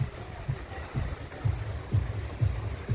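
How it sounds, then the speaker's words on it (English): Strong wind buffeting a microphone beside a beach hotel pool in Kos, Greece: low, rumbling gusts pulsing roughly every half second, loud and close, with a broad hiss underneath. "the wind is really quite strong"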